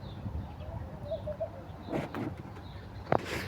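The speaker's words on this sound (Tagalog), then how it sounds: "Ang daming ibon pag tuwing hapon." Several short bird calls sound over a steady outdoor background in an afternoon garden, scattered and fairly faint, with one sharper chirp near the end.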